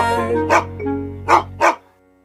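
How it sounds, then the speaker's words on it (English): A dog barks three times, sharp and close, over a sustained tonal hum that cuts off near the end, followed by quiet. "I hear a dog."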